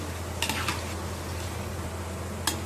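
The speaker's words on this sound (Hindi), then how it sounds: "सारी बूंदियों को इसी तरीके से फ्राई करके तैयार करेंगे" Boondi fries in hot oil in a kadhai, giving a soft continuous sizzle with a few metallic clinks of a ladle against the pan near the start and end, with no one speaking.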